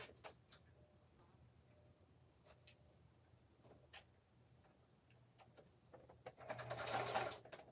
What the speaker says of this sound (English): I'm over here sewing, you guys, so hold on.